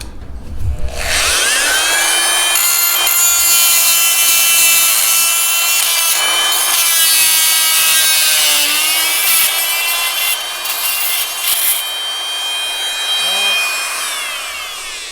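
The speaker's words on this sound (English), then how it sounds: "we're going to try to add some vibration to this bolt head here and see if that would help break it loose" A homemade vibration tool buzzes against a rusty bolt head on a turbo, giving a loud, steady rasping whine with strong harmonics that runs for about twelve seconds, then tails off near the end.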